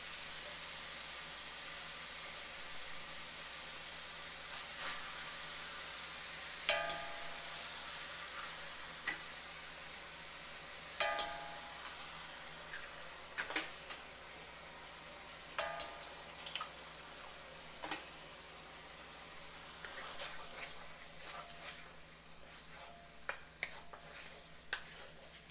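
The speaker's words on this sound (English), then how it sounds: "Now we're gonna wait until the eggs cook." Eggs frying in a pan for fried rice, with a soft, steady sizzle and hiss broken by occasional clicks and scrapes of stirring, fairly quiet and without speech over nearly half a minute.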